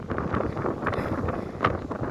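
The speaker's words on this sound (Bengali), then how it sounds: "বাতাস" Wind gusts buffet the microphone outdoors, producing a continuous rough, rumbling roar that swells and dips unevenly throughout.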